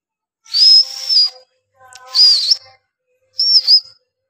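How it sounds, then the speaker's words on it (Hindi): Three sharp, high-pitched whistles to call pigeons down, with a slight warble, each about a second long and separated by brief pauses, loud and close with no talking. "सीटी मारता भाई, नीचे उतर आए भाई।"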